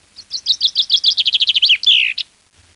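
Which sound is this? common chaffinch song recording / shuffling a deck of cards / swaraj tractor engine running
common chaffinch song recording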